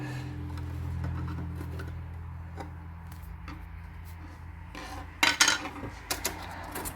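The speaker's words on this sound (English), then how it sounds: "Let's go ahead and mix our paint. Let's stir it anyway." Mixed paint being stirred in a can for a custom paint job on a 2009 Harley FXSTC Softail, a quiet hum underneath with soft scrapes and a few sharp metallic clinks and taps near the end.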